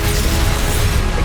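A Confringo blasting spell going off in Hogwarts Legacy, a loud, dense burst of crackling explosive noise that holds steady across a short moment, with no voice over it.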